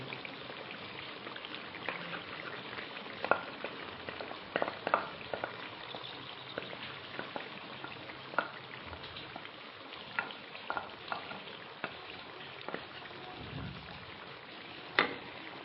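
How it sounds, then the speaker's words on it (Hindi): Chicken korma with added cream bubbles and sizzles softly in a pan while a spoon stirs it, scraping and tapping the pan now and then. "इसको अच्छी तरह से मिक्स कर लेंगे।"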